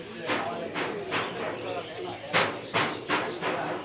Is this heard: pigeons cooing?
yes